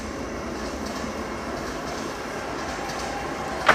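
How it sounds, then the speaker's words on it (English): A train rolls past nearby as a steady broadband rumble and rush that holds evenly throughout, with a sharp brief clank near the end. "Let the train go by."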